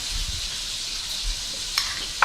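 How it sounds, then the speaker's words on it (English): Steady, hissing sizzle of food frying in a hot pan, constant throughout with a couple of small crackles. "Listen to that sizzle."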